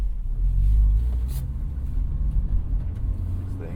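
A Honda S2000 (AP1) sports car rumbles with a low engine and road drone while driving on a hot day, steady and close with brief swells, and a voice talks intermittently over it.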